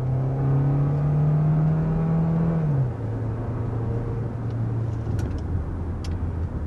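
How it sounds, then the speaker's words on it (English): A 2024 Hyundai Tucson hybrid with a six-speed automatic transmission accelerates, its engine note climbing steadily before dropping twice as the gears shift up, loud and close from inside the cabin. "you're hearing gear shifts, and that's because this actually does have a transmission"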